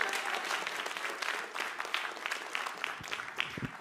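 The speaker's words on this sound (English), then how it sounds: "another round of applause for Rory" Evening crowd gives a short round of clapping for a person onstage, moderately loud and steady with scattered individual claps, lasting a few seconds.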